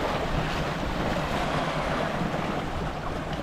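Continuous ocean waves breaking and washing ashore at Woodbine Beach, Toronto, a steady broadband roar with wind buffeting the microphone and no talk.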